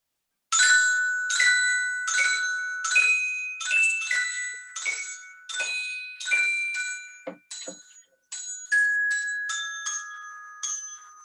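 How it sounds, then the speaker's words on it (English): A toy glockenspiel plays a tune from Respighi's Feste Romane: a quick run of bright, ringing struck metal notes with short pauses between phrases, close and alone. "On the toy glockenspiel, fantastic."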